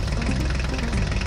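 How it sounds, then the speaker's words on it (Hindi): Toy Swaraj tractor driving off with a steady, loud engine rumble that holds at a constant idle-like chug for the whole moment, with no voices. "चलो ड्राइवर, तुम अपने स्वराज ट्रैक्टर को लेके जाओ"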